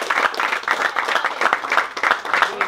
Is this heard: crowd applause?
yes